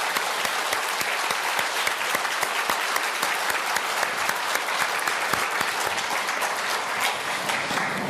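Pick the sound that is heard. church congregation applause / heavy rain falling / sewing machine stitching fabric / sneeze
church congregation applause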